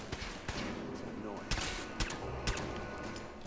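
Gunfire in Fallout 4: a string of sharp shots about half a second apart, moderately loud, layered over game background noise with someone talking.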